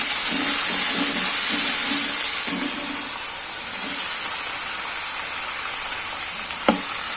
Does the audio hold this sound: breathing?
no